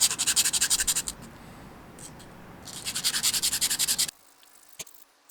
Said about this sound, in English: sandpaper to sand it down from here.